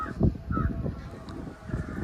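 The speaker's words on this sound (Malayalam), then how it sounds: "ഒരു കാക്ക" A crow caws a few times at close range, harsh and repeated, over a faint outdoor background near mango trees and hills.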